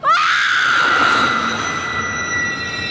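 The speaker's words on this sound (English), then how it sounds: "Kathy's mother then delivers one of the best screams of any movie, which rivals any horror film" A woman in The Lost World: Jurassic Park (1997) lets out a long, piercing scream that holds steady and loud for about three seconds before cutting off, with no talk over it.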